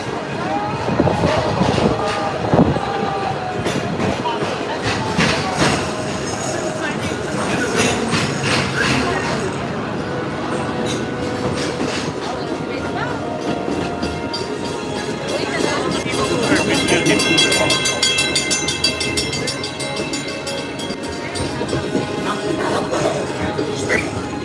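A theme park ride train on the last day of Splash Mountain rolls along its track with a steady, busy rumble, mixed with recorded ride narration, voices and music throughout.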